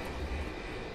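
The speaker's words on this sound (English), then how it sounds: "The plane's gaining altitude." Airplane engine roaring steadily as the aircraft gains altitude in the video game Resident Evil 6, a loud continuous drone with heavy low rumble, heard alone without talk.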